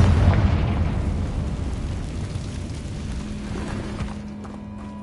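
A Confringo spell in a Harry Potter video game sets off an explosion. A heavy low boom rolls out at the start and decays into a rumbling tail, with faint tonal game sounds toward the end and no talk.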